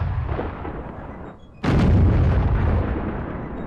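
Loud, continuous gunfire and artillery-like blasts from a video game, a dense rumbling barrage that dips briefly and then surges again, with no talk over it.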